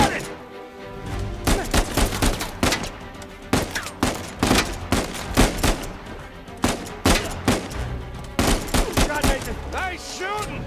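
Bursts of gunfire in the video game Uncharted 4, with rapid volleys and single loud shots firing in an uneven rhythm throughout, close and punchy, with a few brief voice fragments mixed in.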